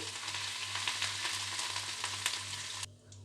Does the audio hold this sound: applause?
no